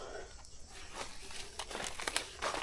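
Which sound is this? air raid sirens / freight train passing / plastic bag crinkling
plastic bag crinkling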